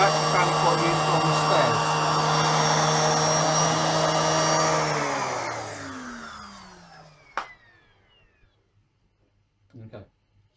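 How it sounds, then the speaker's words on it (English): A Vax Power 5 Pet vacuum cleaner runs with a loud, steady motor whine for about five seconds, then winds down as it is switched off, followed by a couple of brief knocks. "this Hoover does have quite a decent bit of suction"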